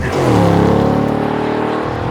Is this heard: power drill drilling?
no